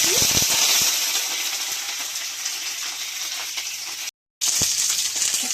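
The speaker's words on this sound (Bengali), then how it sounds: "তো আমি ফুলকপিগুলো সুন্দর করে ভেজে নিচ্ছি।" Cauliflower florets fry in hot mustard oil, giving a loud, steady sizzling hiss that cuts out briefly near the end before resuming. No one speaks.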